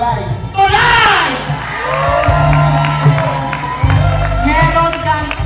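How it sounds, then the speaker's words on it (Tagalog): An audience at a barangay officials' clapping contest in Odiongan cheers, whoops and claps for a kagawad. The noise is loud and sustained, with shouting voices rising and falling throughout. "Meron kang 9 na palakpak."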